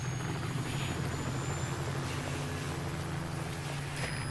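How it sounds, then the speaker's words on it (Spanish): Helicopter in Metal Gear Solid 5: Ground Zeroes, a continuous low rotor drone with a steady rumbling hum under faint wind-like noise, holding constant throughout. "Helicóptero."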